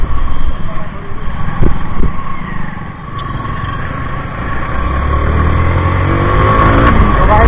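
A Yamaha R15 V4 motorcycle accelerating through traffic, engine revving up steadily and loudly with rising pitch, accompanied by strong wind rush and passing traffic noise.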